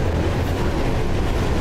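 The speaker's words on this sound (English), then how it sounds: "Up on the other train." Train passing in the Mirror's Edge video game, a loud, steady rumble with a rushing roar that holds at the same level throughout, with no voices.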